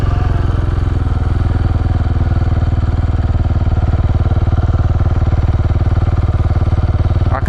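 A dirt bike engine drones steadily while riding along beach sand, loud and close with a fast even pulsing throughout and no talking.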